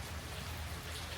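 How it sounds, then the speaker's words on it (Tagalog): Steady rain falls outside Ulsan Airport, a continuous dense hiss of drops on surfaces with a low rumbling undertone, no voices. "So, umuulan Ulsan Airport."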